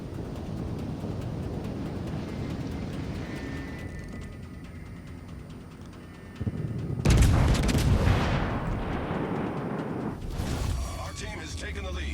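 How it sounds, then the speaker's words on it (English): A naval gun salvo fires in World of Warships, a heavy booming blast after a quieter stretch, then rolling rumble and a second swell of explosive noise. A voice talks over the battle. "throw one more salvo and then we'll throw out some HE"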